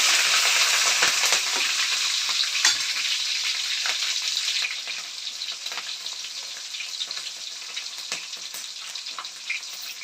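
Green chillies and cumin seeds fry in hot oil for a buttermilk sambar, a loud dense sizzle up close with sporadic crackles and spits that settle into a softer, steady hiss partway through.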